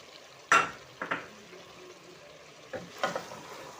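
Tamarind pulp stirred into a pot of cauliflower and potato curry: a few soft scraping and clinking strokes of a spoon against the pot, close and fairly quiet, with gaps of near silence between them.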